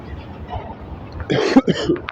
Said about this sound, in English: Yo, I'm really coughing.